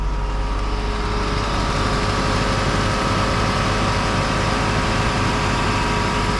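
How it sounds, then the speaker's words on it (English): A 1976 Mercedes-Benz 450SL with the M117 engine idling in its engine bay, a steady, even low hum and rumble with a faint constant whine, unbroken and close for several seconds. "if you just listen to the idle, if you know these cars, you know that that is a very, very good, healthy engine."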